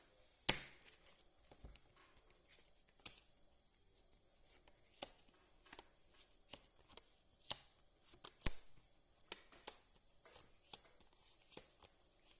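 Tarot cards shuffled during a Gemini reading, heard as faint, sharp riffling snaps and taps at irregular intervals against a quiet room, with no talking.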